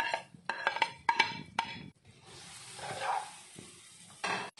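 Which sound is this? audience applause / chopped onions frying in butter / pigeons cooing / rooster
chopped onions frying in butter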